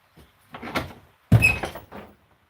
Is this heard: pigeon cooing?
no